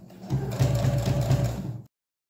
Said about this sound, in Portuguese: Fiz uma costurinha para fechar esse viés e já prender a minha rendinha.